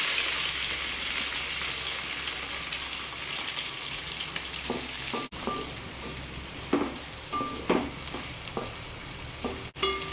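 Onions, green chillies and curry leaves frying over a medium flame, a steady close sizzle with intermittent scraping stirs of a spatula against the pan, with no voices.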